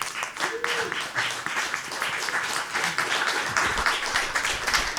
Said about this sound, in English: And another round of applause for Gabriel.